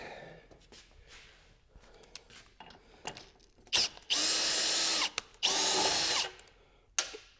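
Power tool with a T40 Torx bit backing out fasteners from the factory skid plate of a Harley-Davidson Pan America motorcycle: two loud, sustained whirring bursts after quieter clicks and handling noise, close up.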